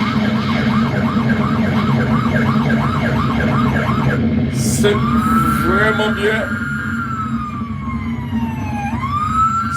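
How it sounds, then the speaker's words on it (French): Siren sounds played loudly, first a rapid rising-and-falling wail, then a slower long sweep, over a steady low hum, with a voice speaking briefly partway through. "mettez sirène"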